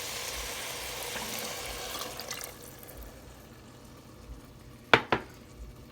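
Beef broth is poured into a pot of chili, a soft liquid pour and splash that fades out, followed by a couple of sharp clinks of a pot or utensil.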